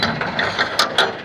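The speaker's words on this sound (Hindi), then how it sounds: "दरवाज़ा खोल लेते हैं।" A door being opened from inside a house: a few short creaking, ratcheting clicks in quick succession, close and fairly loud.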